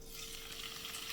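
Shrimp sauté in a hot pan over medium heat, giving a soft, steady sizzle that crackles continuously throughout with no voices.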